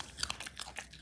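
A pet chewing food up close, several crunchy bites and chomps in an uneven rhythm over about a second, with no talking.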